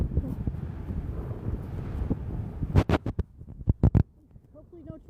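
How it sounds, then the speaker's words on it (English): Strong gusts buffet the microphone in an outdoor cemetery on a very windy day, a dense low rumble roaring throughout, then broken into sharp bursts of wind hitting the mic near the end, with someone talking under the wind. "It is really windy, so I hope you can hear me."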